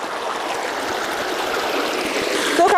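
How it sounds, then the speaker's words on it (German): A mountain stream in the Austrian Alps rushes and trickles close by as someone wades through it, a dense, steady water sound with faint irregular splashes and no voices. "Aber diesmal laufe ich durch den Bach."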